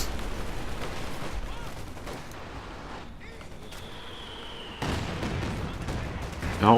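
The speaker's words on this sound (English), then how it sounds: "this Katyusha is just ripping his half-track strategy to shreds" Katyusha rocket artillery firing in the strategy game Company of Heroes 2, a continuous crackling fusillade of launches and impacts with a louder burst near the end, all under a game soundtrack.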